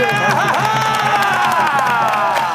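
A studio audience at a Korean TV talent show claps and cheers, a continuous crowd roar with a sustained vocal tone running through it.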